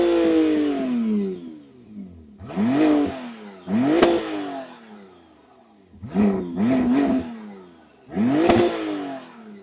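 A 2025 McLaren Artura Spider's 120-degree V6 in the hybrid drivetrain revs hard in repeated bursts. Each loud, close blip rises and falls, with short gaps between the sharp revs.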